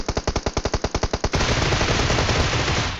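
Rapid automatic gunfire in PUBG, a tight burst of about a dozen loud shots in quick rhythm, cut off by a dense wash of noisy rumble and crackle that carries on to the end.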